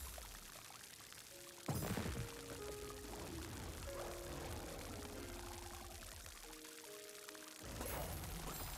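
Plants being watered in the video game Song of the Evertree: a long, continuous pouring stream with splashy bursts at the start and end, set over a soft melodic in-game music backdrop at low volume.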